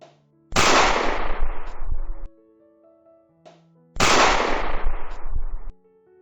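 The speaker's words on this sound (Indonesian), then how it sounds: "Suara tembakan kembali terdengar dan mengarah pada ban mobil." Two loud gunshot bursts, each a sharp crack with a rattling tail lasting over a second, separated by a quiet pause with faint tones.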